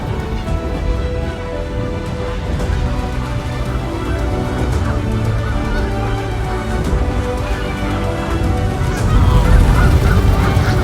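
Geese honk repeatedly in a scene from the animated film The Wild Robot, a loud, dense flock of overlapping calls over a busy background that swells toward the end.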